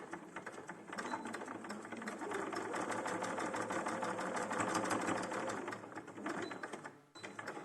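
A sewing machine runs continuously, stitching a quarter-inch seam in slippery fabric with a fast, even mechanical whir that stops briefly near the end.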